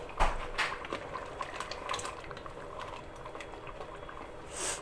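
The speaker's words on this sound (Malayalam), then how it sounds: "നന്നായിട്ട് തിളച്ചിട്ടുണ്ട്." A pot of roasted-coconut crab curry boils on high flame, bubbling and popping softly and irregularly at close range, with a few sharper plops and no talking.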